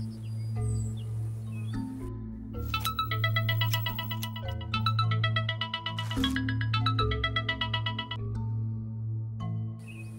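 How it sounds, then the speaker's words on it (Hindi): A melodic electronic ringtone plays repeatedly over a steady low hum, bright tonal notes recurring in bursts, moderately loud with no talking. "रुको, मैं नागराज को फोन करता हूँ।"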